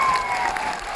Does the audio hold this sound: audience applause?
yes